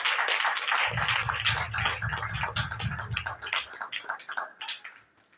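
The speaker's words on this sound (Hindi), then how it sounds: "उस यीशु नाम के लिए जोरदार तालियां बजाएं" A church congregation claps and applauds loudly in dense, sustained applause with low rhythmic thumping underneath, fading out toward the end.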